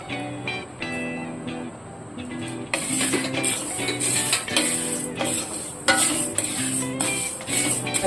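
Sambar powder spices and Guntur chillies being dry-roasted in a pan, with steady scraping and stirring, cutlery-like clinks against the metal and a light sizzle running throughout.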